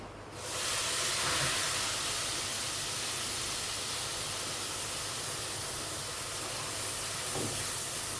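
Onions sizzle in hot oil as vegetables are tempered, a loud, steady, close hiss that starts abruptly and holds without a break.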